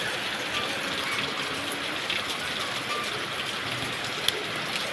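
Steady rain falls in a constant, dense wash of patter that stays even throughout, with one small sharp drip near the end.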